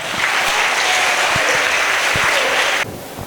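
Loud, dense applause from a large crowd at a school competition final in Senegal claps steadily for almost three seconds, then drops off abruptly into quieter room noise.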